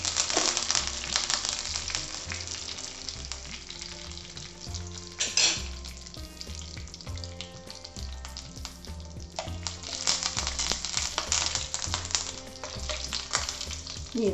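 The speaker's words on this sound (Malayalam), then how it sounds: "കടുക് ചേർക്കുകയാണ്. ചുവന്ന മുളകും കറിവേപ്പിലയും കൂടെ ചേർത്ത് കൊടുക്കാം." Mustard seeds, red chillies and curry leaves fry in hot oil with a loud, continuous sizzle and popping crackle, one sharp burst flaring up partway through, close and without talk.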